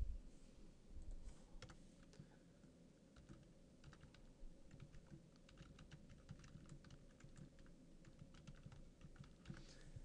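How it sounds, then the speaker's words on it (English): A computer keyboard clicks through a run of soft keystrokes, including the Enter key, while someone types code in a web design program. The irregular tapping is faint and close, with no talking. "And if I hit the Enter key"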